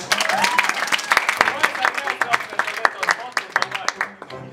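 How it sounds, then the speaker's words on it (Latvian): Live improv show audience applauding a team, a burst of dense, brisk clapping from a room full of people that thins into scattered claps with some voices mixed in. "Aplausus viņiem!"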